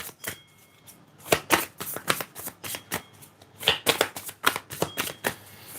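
A deck of tarot cards being shuffled up close, with a quick run of crisp riffling snaps and flicks in uneven bursts, and no talking.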